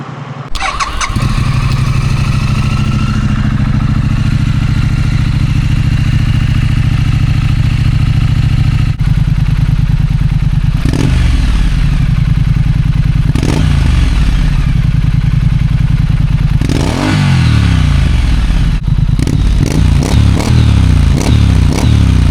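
A Triumph Scrambler 900 motorcycle starts up with a loud crank and catch, then settles into a steady, throbbing idle with several sharp throttle blips rising and falling, close by and with no talking.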